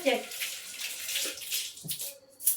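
Coriander and mint leaves are washed by hand in water, with close splashing and swishing that comes and goes while a voice speaks over it.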